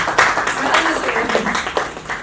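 Lively audience applause at a Women Entrepreneurs Enclave awards event, dense steady clapping from a crowd that is close and fairly loud.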